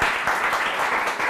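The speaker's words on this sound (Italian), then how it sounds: "Bellissimo, ci sta un applauso!" Audience applause at a televised singing contest in Italy, a steady dense wash of clapping at full loudness through the whole short stretch, with no voices over it.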